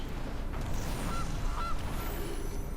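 A goose honks twice in a Magic the Gathering Arena match, short nasal calls over a steady hum of game background sound.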